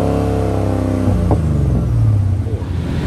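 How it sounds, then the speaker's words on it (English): A Defender fitted with a supercharged 650-horsepower LT4 engine and eight-speed transmission revs loudly up close, a deep, steady engine roar rising briefly and then settling. "LT4 is a supercharged 650 horsepower engine that we put an 8-speed transmission on."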